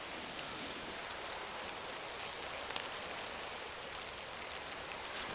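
Rain falls outside a tent in a soft, even wash of hiss, faint and unbroken, with a single brief sharper tap near the middle.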